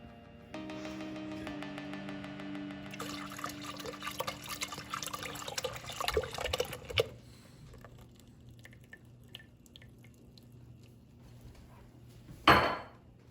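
Stout beer pours into a cold, unheated pan with a gurgling, splashing stream and faint metallic clinks, close by, then thins to scattered drips before a sharp clatter near the end.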